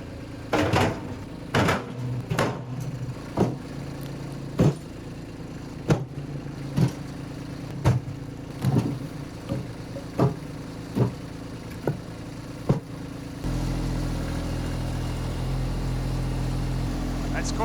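A tractor engine idles steadily under a run of sharp wooden knocks and thuds as wood is loaded into its front bucket, the clunks coming every second or so before a louder, steadier engine drone takes over.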